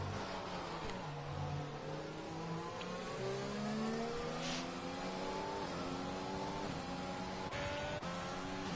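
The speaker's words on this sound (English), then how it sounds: "Temp's tires locking up into the last U-turn" An F1 racing game car in the rain, tires locking up into a U-turn: a steady, loud engine drone with pitch sweeping down and up as the car brakes and accelerates, other cars faintly audible in the background.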